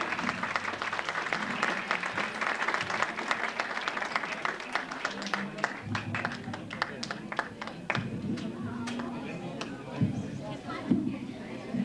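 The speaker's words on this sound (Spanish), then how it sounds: "Un aplauso para ella, por favor." Audience applause at a town queen pageant, scattered hand claps with a crowd murmuring, while a voice talks over the clapping as it thins out.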